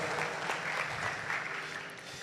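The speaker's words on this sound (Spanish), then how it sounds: "Démosle un aplauso a Dios por este mensaje tan hermoso." A church congregation applauding after a sermon on healing wounds in marriage, a dense, even wash of clapping heard alone at moderate level.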